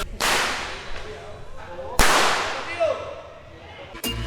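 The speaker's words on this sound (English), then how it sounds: "it's tough to focus when shit is literally exploding in your backswing" Small explosions go off as tejo targets are struck, two sharp, loud cracks with a crackling burst, about two seconds apart, followed by a faint echo and a quick third pop near the end.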